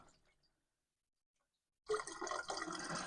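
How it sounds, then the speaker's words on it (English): Cooked cabbage and its water are poured through a colander, a loud rushing splash of draining liquid that starts abruptly after near silence and pours steadily close by. "So I've got to drain that in through the colander."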